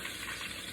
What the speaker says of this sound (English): frying stuff in the frying pan right now is not good for you